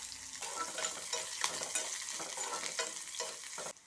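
Mustard seeds, split urad dal, shallots, green chili and curry leaves sizzle in two spoons of hot oil in a kadai, a close crackling fry broken by scraping stirs.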